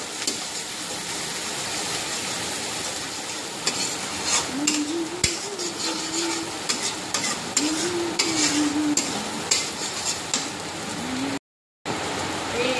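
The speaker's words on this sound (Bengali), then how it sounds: "লবণ দিয়ে দিলাম, ভালো করে ভাজতে হবে পেঁয়াজ বাটাটাকে" Onion paste frying with salt in a pan, a continuous loud sizzle broken by stirring scrapes and brief utensil knocks, with a short dropout near the end.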